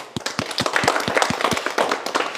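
Schoolchildren in a government school classroom clap together in a quick, uneven burst of sharp, close handclaps that lasts a couple of seconds.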